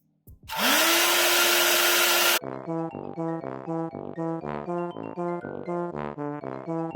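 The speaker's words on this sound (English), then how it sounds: "So let me blow dry it so we can see." A hair dryer blows on freshly box-dyed hair in a loud, steady whoosh lasting about two seconds. It cuts off abruptly, and rhythmic tonal pulses follow.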